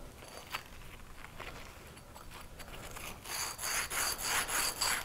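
Abrasive cloth scrubs a copper pipe end down to bare metal, a close rhythmic rasping of quick back-and-forth strokes that grows louder and faster in the last two seconds.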